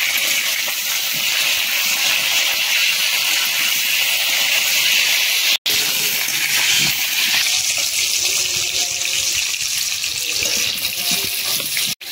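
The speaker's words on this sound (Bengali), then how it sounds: "এবার পটলগুলো সুন্দর করে ভেজে নেব।" Pointed gourd pieces frying in hot oil in a wok give a loud, steady sizzling hiss that runs almost without a break, with one brief gap partway through.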